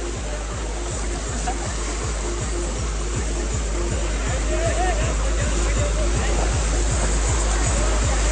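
Loud, steady rush of floodwater flowing through Vinchhiya village fills the whole clip, with a repeating low thumping underneath and faint voices mixed in.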